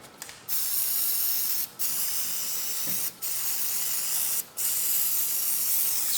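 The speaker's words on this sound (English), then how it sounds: "I'll just spray some carb cleaner inside." Carb cleaner is sprayed from an aerosol can into the carburetor of a Husqvarna lawnmower that won't run, four loud, close hissing bursts, each a second or more long, separated by brief pauses.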